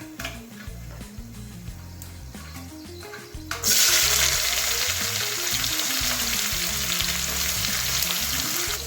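Onion drops into hot oil for Punjabi kadhi pakora, the quiet pan suddenly bursting into a loud, continuous sizzle that stays strong, over a background hum.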